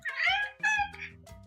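A cat gives two drawn-out, voice-like meows in a row close up, followed by a softer short trailing meow.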